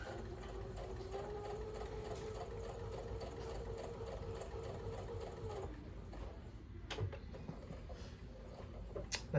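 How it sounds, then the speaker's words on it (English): A sewing machine stitches a quilt block with a steady close motor whir that stops partway through, followed by a few handling clicks. "Just start sewing that V. Get your stitches into that V."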